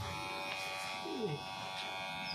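An electric hair clipper set to zero runs with a steady, even buzz while shaving a child's head. It sounds fairly quiet and close, with faint voices in the background.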